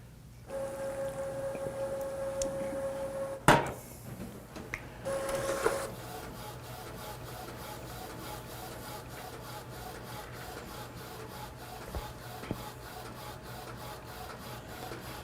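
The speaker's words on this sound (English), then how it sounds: "so there's our printing out" Inkjet-style printer feeding and printing onto cotton fabric, a few whirring carriage passes and a clunk early on, then a steady quiet mechanical hum with faint ticks.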